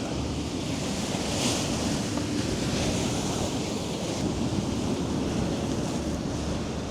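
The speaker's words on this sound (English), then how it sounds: "I found my little spot surrounded by waves. You probably can hear it." Steady roar of ocean surf in Hawaii with waves washing continuously, mixed with wind buffeting the microphone; no voices.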